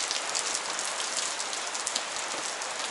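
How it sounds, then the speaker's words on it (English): Heavy rain drums steadily on the body of a Ford Transit MK1 camper van during a downpour in Denmark, a dense, continuous patter close by with no voices. "But this is the first time that it's really raining."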